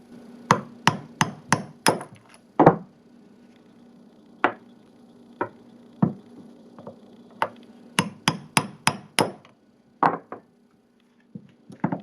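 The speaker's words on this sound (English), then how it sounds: "You just tap out the old bushings, slide the new ones in, put it back together" A hammer taps old bushings out of a Razor A5 Lux scooter wheel, giving sharp, close metallic knocks, first in a quick run of five, then scattered single hits and another fast burst, with no talking.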